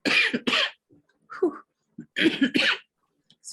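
Several harsh coughs come in quick bursts, close by, with a short pause and then another round of coughing.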